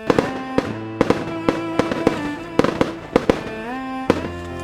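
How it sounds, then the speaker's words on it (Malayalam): Fireworks burst in a rapid irregular series of sharp loud bangs with ringing tails, the booms echoing close by while a tonal song plays underneath. "ഇതിനു മുമ്പ് നീ വെടിക്കെട്ടൊന്നും കണ്ടിട്ടില്ലേ?"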